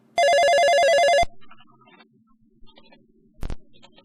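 Telephone ringing in the EGA version of the video game Police Quest 1: a single loud, buzzy electronic trill burst lasting about a second, followed by faint scattered beeps and a short click.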